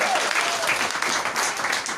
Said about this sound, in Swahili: Mpe Yesu makofi mazuri unaposimama